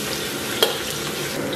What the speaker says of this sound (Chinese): 油温六七成热啊，咱们把这个姜给它下里边，先给它简单煸炒一下